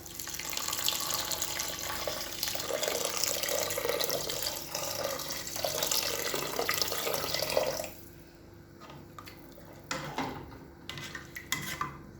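Water runs and splashes steadily into cooked rice in a pot for several seconds, then stops, leaving a few quieter knocks and clinks of utensils.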